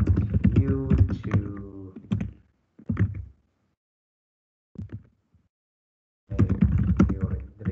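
Bursts of computer keyboard typing come in short, close clusters of clicks, separated by quiet gaps, with a few isolated key taps in between.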